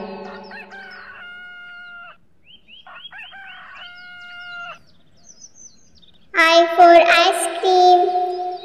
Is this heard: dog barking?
no